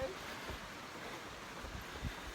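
Water of a rocky stream rushes steadily over boulders during a wilderness backpacking trip, a broad continuous wash with wind noise on the microphone and a brief knock near the end.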